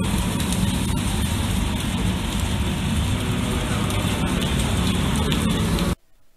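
Heavy rain pours at the Spa racetrack during a 24-hour endurance race, a dense, loud, steady hiss that stops abruptly near the end.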